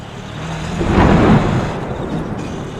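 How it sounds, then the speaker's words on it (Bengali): A vehicle sound effect for a Bengali ghost-story audio drama: a deep rumble swells to a peak midway, then settles into a steady low roar, alone and fairly loud. "আর আমি অগত্যা গাড়িটা চালাতে শুরু করলাম"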